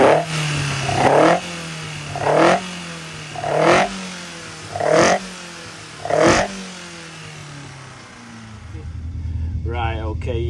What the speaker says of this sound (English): we're on and running with the offset bore engine